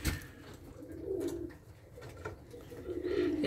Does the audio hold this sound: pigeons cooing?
yes